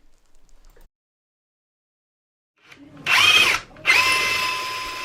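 A power drill bores dowel holes in wood in two short bursts after a quiet start, close and loud, the second burst running longer.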